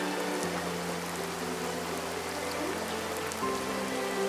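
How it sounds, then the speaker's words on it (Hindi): Steady heavy rain pouring down with strong wind, a dense continuous hiss with low droning hum underneath, constant and fairly loud. "तेज आंधी के साथ मूसलाधार बारिश शुरू हो गई"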